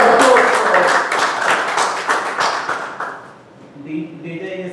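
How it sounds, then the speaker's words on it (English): Audience at a meeting clapping, rapid claps with voices mixed in, fading out after about three seconds before a voice and tones take over. "let's all give a good round of applause."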